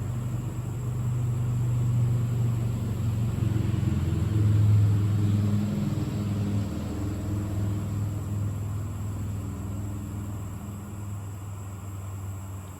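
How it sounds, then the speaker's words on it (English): A constant low roar of highway traffic, vehicles rushing past in a continuous rumbling wash with no talking, heard from a riverside campsite. "that's all the traffic you're hearing"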